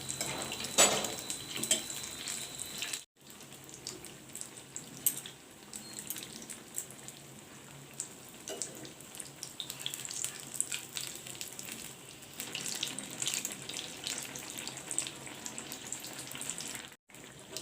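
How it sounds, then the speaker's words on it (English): Brinjal (baigani) pakoras frying in hot oil give a steady close crackling sizzle with faint kitchen clatter and two brief gaps, no talking. "Dip it in the basin and then put it to fry."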